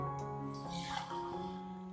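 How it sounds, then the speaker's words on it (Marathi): Two glasses of water are poured into a cooking pot of salted, asafoetida-seasoned food, making a soft, continuous splashing gurgle that is fairly quiet and without talk. "दोन ग्लास पाणी टाकतोय"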